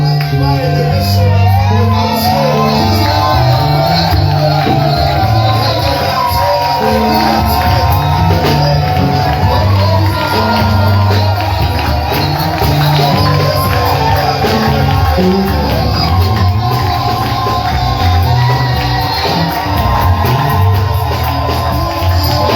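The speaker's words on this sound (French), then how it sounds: "J'attends voir quelqu'un qui va crier d'une grande forte voix." A church congregation shouts loudly and continuously, many voices raised together in a dense, roaring mass with whoops, sustained at high volume throughout.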